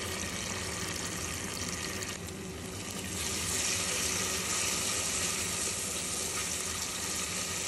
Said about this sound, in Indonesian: Kita akan tambahkan air sebanyak 500 ml.